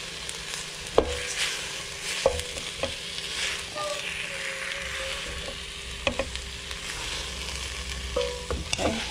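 Food sizzles and fries in a pan over a flame while being stirred, with steady crackling and occasional clanks of a utensil against the pan, fairly close with no talking.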